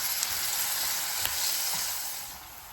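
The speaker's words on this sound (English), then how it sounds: "I started off with a 1/4 cup of olive oil to saute these onions in" Onions and green chili sauté in olive oil with a bright, close, even sizzle that eases off slightly toward the end.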